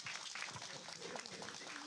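An audience at a panel discussion claps steadily at moderate volume, dense and continuous with no break.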